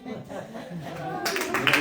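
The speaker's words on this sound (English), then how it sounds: "don't clap for it. Don't clap for it." An audience at a live Dating Game show in Kalamazoo breaks into a short burst of clapping that swells in the last moments, following a spoken voice.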